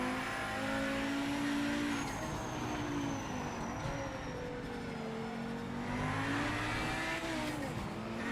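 A race car engine in the Project Motor Racing video game holds a loud, steady roar, its pitch swelling and dipping as it revs, with a faint tire squeal over the continuous drone.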